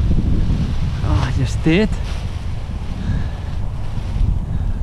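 Strong gusty Santa Ana wind at a local park where a kite is being flown, a steady loud rumbling roar buffeting the microphone throughout, with a brief voice speaking over it.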